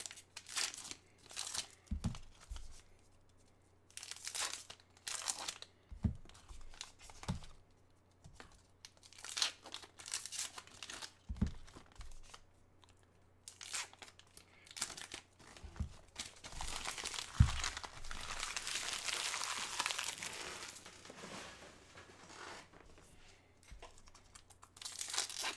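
Topps baseball card packs are torn open by hand with no scissors, giving bursts of crinkling foil and ripping wrapper, close and repeated, with quieter handling between and a long crackling stretch.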